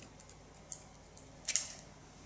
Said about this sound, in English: Again with a small point cut technique.